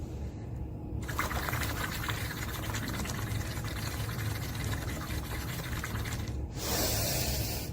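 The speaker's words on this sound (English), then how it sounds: "So you have to blow out completely by making bubbles." Steady bubbling from someone blowing through a straw into a glass of water during a breathing exercise, a continuous gurgling stream lasting several seconds before stopping abruptly.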